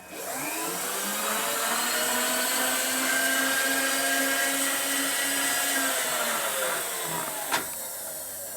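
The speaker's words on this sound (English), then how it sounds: "It's a bit easier just to drill that crap out of there" A power drill whines steadily at high speed for several seconds, close and loud, drilling out the stripped threads of a broken exhaust stud on a Harley-Davidson FXR, then winds down and stops with a brief click.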